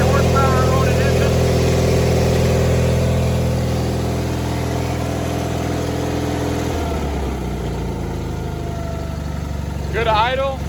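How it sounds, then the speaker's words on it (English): A John Deere 420 garden tractor with a 20 horsepower Onan engine runs at a steady, close, loud idle, its low drone shifting slightly partway through, while someone talks over it. "Good idle, good response on throttle up."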